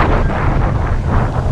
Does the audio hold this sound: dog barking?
no